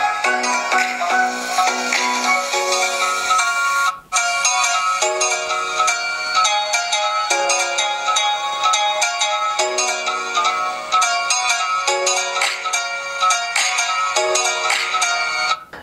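Ringtone melody playing from the stereo speakers of a Poco X3 smartphone, a bright, continuous musical tune with a brief gap near the four-second mark, loud and alone with no talking.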